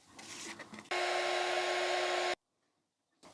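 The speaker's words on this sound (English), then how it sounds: "I'm going to dry this with my hot air gun." Hot air gun blowing over freshly painted craft decor, a steady loud whoosh with a faint whining tone lasting about a second and a half before cutting off abruptly, preceded by soft handling noise.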